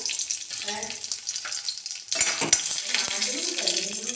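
A bay leaf dropped into hot ghee in a pan for carrot kheer brings a burst of sizzling after a quieter start, with clinks of a utensil and faint voice-like sounds nearby.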